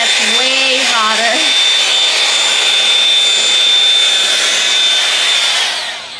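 A Shark SmoothStyle blow dryer on its high heat setting roars with a loud, steady airflow whine close by, a brief warbling tone near the start, then cuts off at the end.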